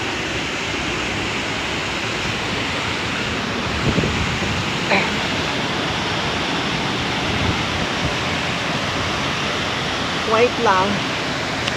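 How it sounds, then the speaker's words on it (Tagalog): Steady broadband rush of the Hidden Waterfalls in Luisiana, Laguna, a continuous close roar of falling water with a few brief voices speaking over it. "And this is now the Hidden Waterfalls."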